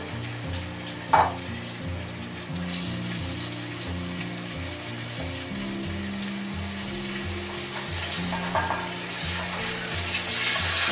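Chicken keema mince frying in a pan after onion and ginger-garlic paste, a steady close sizzle with stirring scrapes throughout, alone under a layer of tonal background music.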